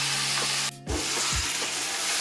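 Chicken curry mix for biryani stirred in a hot pan: a steady loud sizzle with a few rhythmic scraping strokes of the spoon, briefly dipping as the stirring pauses.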